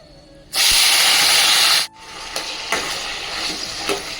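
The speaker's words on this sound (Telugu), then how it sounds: "వంకాయల్ని బాగా ఫ్రై చేయాలన్నమాట" Eggplant pieces hit hot oil seasoned with salt and turmeric, bursting into a loud, close sizzle for over a second, then settling into a softer continuous frying hiss with occasional crackles and stirring scrapes.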